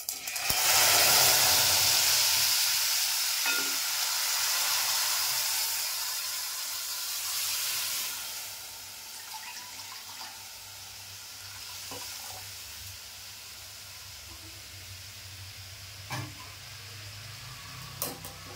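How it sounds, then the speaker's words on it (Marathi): Urad dal and curry leaves hit a hot pan with a loud burst of sizzling that fades into a steady, softer crackle and occasional stirring clicks, with no talk. "आणि हा कढीपत्ता. मी डाळ पण ओतून घेते."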